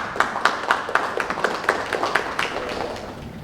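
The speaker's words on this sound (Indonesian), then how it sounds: "Saya mungkin aplaus yang meriah buat Pak Polres." Brief burst of audience applause for the police chief at a regional labour wage meeting in Majalengka, about a dozen sharp claps in a steady rhythm, close and fairly loud, fading toward the end.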